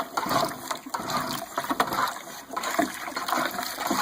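Water pouring into a homebrew container being filled toward the 4.5 gallon mark, a loud continuous rushing splash with uneven surges, close up and with no talking.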